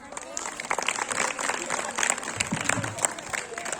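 Audience applause at a Republic Day school celebration, a steady wash of clapping from a crowd lasting the whole stretch, with voices mixed in underneath.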